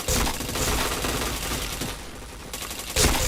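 Video game gunfire crackles in dense rapid bursts, loud and close, with a brief lull before another sharp volley near the end; no talking.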